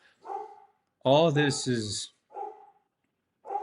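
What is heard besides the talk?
dog barking outside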